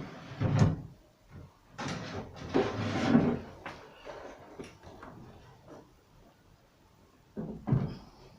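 A heavy wooden drawer slides open and shut several times, giving low scraping rumbles and knocks at close range in a quiet room, with no speech.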